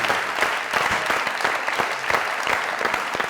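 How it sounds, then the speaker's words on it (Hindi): Audience applause at a Hindi event welcoming writer Bushra, a dense, steady wash of many hands clapping throughout, fairly loud and close, with no talk. "जो बुशरा जी के लिए जोरदार"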